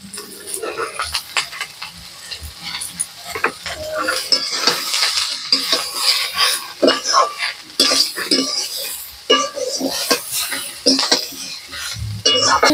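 Cauliflower roast being sautéed in a pan, with a metal spatula clanking and scraping busily against the pan over a soft sizzle, in close, irregular bursts.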